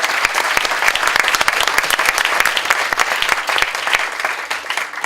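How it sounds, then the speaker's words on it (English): An audience at an International Volunteer Day event gives a sustained round of applause, dense and steady clapping close by that continues for the whole stretch. "So Luke, can we give her one last round of applause before she goes?"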